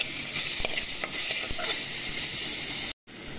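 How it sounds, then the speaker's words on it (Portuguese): Garlic browns in oil in a pan as the base seasoning for meat with zucchini. A close, continuous sizzle with a few scraping stirs runs throughout and drops out briefly near the end. "já estou dourando aqui o meu alho"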